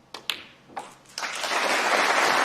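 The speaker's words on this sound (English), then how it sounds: "a beautiful sound made by the audience applauding Mark Allen's 2nd century of the afternoon" Snooker audience at a tournament final applauding Mark Allen's century break: a few separate claps, then a swell of sustained, fairly close applause from the crowd.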